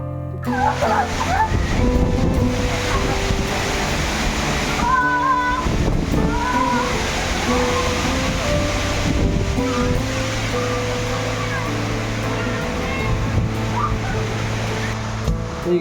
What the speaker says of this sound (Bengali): গ্রামের বাড়িতে এসেছি আর অমনি ঝড় শুরু ঝড় আর বৃষ্টি